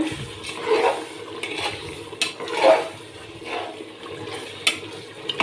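Chicken biryani being stirred in a pot after salt is added, soft scraping and sloshing strokes recurring every second or so, with faint sizzling underneath.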